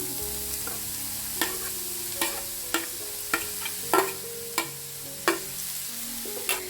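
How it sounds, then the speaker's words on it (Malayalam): Grated carrot frying in melted ghee for carrot laddu is stirred with a spoon, a soft steady sizzle punctuated by regular crisp scraping knocks against the pan, close and unaccompanied by speech. "ഇതിലേക്ക് നമ്മൾ ഗ്രേറ്റ് ചെയ്ത് വെച്ച ക്യാരറ്റ് ഇട്ട് കൊടുക്കാം."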